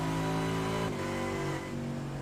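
Race car engine in iRacing, a GT3 car at Interlagos, droning steadily and then sputtering as it runs out of fuel, its tone dipping and stumbling partway through while it keeps running at moderate loudness with no talking.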